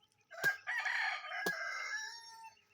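A rooster crows once nearby, a drawn-out call lasting around two seconds and punctuated by a couple of sharp knocks, set against an otherwise quiet background.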